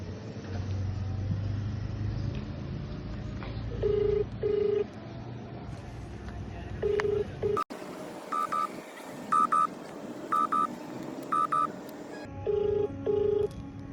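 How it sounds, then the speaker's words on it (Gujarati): A mobile phone call is placed with a sequence of paired dialing tones, then the outgoing ring tone repeats in regular bursts over a low car-like rumble. "તો ચાલો આપણે જેનિસને કોલ કરીએ."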